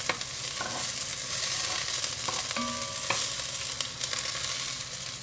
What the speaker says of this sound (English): so once these onions have sauteed up and the hamburger is browned a little bit